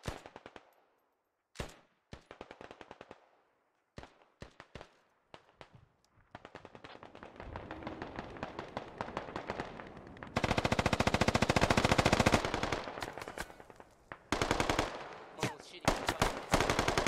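Sustained automatic gunfire in a tactical shooter game, with sparse bursts giving way to a long, loud, dense stretch of rapid machine-gun fire near the end.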